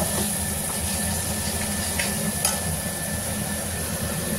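Ginger and onion mixture sautéed together in a pan for a banana flower dish, giving a steady, even sizzling hiss throughout with no voices.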